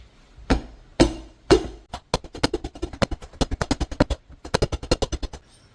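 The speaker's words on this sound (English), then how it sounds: "go around the wheel, smacking it with the hammer" Sharp hammer blows strike a go-kart tire on its wheel, first a few spaced hits, then a rapid run of dull smacks in quick rhythm.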